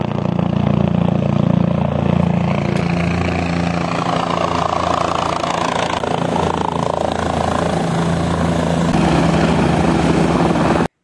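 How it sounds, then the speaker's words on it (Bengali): A helicopter near Kedarnath temple gives a loud, continuous rotor and engine roar close by, shifting in pitch as it passes, with voices faintly beneath. "চলে এলো হেলিকপ্টার।"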